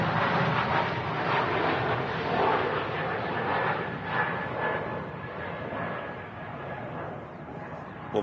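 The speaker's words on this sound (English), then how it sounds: "Lovely smooth takeoff there from the Max 8." A Boeing 737 Max 8 airliner taking off at Manchester Airport, a steady broad jet-engine roar heard from a distance, holding loud and even throughout with no talk over it.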